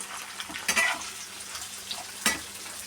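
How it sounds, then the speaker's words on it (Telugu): Onions, cashews and green chillies fry in hot oil, giving a steady close sizzle with a few louder crackles and stirring clinks. "ఆనియన్స్, జీడిపప్పు అలాగే పచ్చిమిర్చి అన్నీ వేసి వేపుకుంటున్నాను అనమాట"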